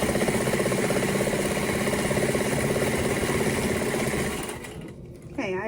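A sewing machine runs steadily while hemming the 7-inch side of a 5 by 7 fabric piece for a surgical mask, giving a loud close mechanical whir that slows and stops near the end.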